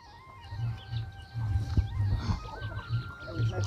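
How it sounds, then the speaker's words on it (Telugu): An Asil breed hen, a native chicken, clucks in short repeated low calls close by, steady across the clip with a few louder bursts. "ఇది అసిల్ బ్రీడ్ కోడి అండి."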